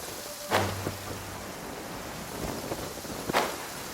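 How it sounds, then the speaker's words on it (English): Steady rain in the video game Genshin Impact hisses softly and evenly throughout, broken by a few faint thumps and brief clicks, with no speech heard. "Let us find shelter from the rain."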